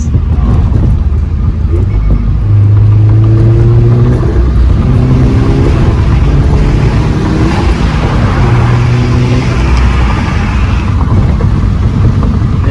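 Untuned stock Subaru turbo engine running close by, a steady rumbling drone with a few gentle revs and little turbo whistle, loud and continuous with no voices.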